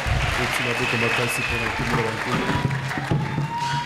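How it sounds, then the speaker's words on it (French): A church congregation claps and cheers together, a dense patter of applause with voices raised over it, near and fairly loud throughout. "acclamons très fort pour le roi des rois"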